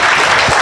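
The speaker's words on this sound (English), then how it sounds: "if we can give a round of applause to our panelists" An audience at a conference gives a round of applause to a panel of speakers, a dense, loud, steady wash of clapping heard close up for a short burst with no talk over it.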